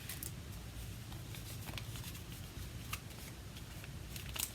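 Paper banknotes being folded and handled, giving soft crinkling, rustling and brief crisp snaps that run steadily for several seconds up close, with no talking.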